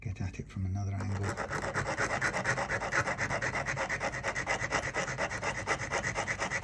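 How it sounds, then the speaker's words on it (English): Sandpaper rubbed back and forth over a guitar fret during a refret of a Yamaha Compass Series 12-string, a steady rhythmic scraping close up and alone, with no talking. "Now it's sort of killing this sandpaper a little bit, so I'm going to try and get at it from another angle."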